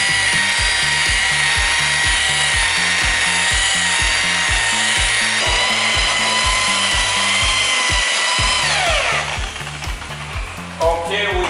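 A power polisher with a wool pad buffs rubbing compound across a car hood's clear coat, giving a steady motor whine over rhythmic, pulsing rubbing before the motor winds down near the end.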